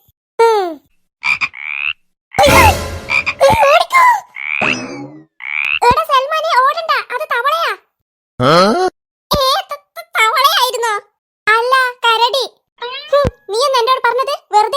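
A voice, apparently a child's, imitates frog croaks in a string of repeated throaty calls, alternating with bursts of speech in a quiet room.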